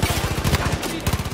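Gunfire in the Far Cry 5 shooter, a rapid automatic burst of close, loud shots, a short gap, then another quick burst.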